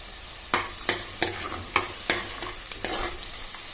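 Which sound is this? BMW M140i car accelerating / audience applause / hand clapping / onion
onion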